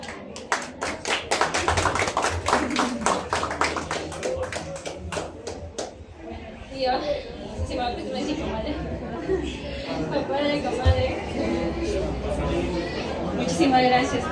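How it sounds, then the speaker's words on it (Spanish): Guests at a baptism clap for a woman, with sharp, distinct handclaps in a quick rhythm for about six seconds, then fading into overlapping chatter and voices with scattered taps. "Fuerte las palmas para la señora Yanina."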